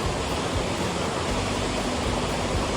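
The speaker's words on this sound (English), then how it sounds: "little mountain streams." A small mountain stream rushes steadily nearby, a dense, even broadband wash of flowing water with no pauses or voices.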